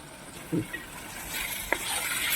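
Tomato paste fries in a pan for a mutton gravy curry, giving a quiet, steady sizzle with a couple of brief stirring scrapes, heard close and without talking.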